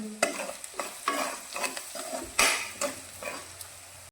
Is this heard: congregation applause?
no